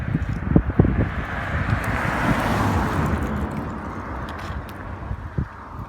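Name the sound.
wind blowing outdoors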